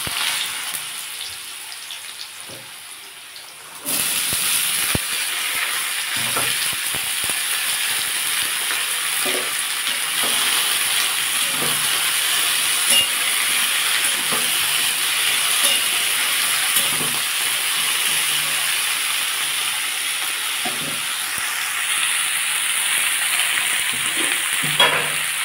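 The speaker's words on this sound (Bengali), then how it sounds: "এবার আমি আলুগুলো ভেজে নেব।" Potatoes sizzle in hot mustard oil in a wok, a loud steady frying hiss that starts abruptly a few seconds in and continues close up, with occasional faint clinks of a utensil.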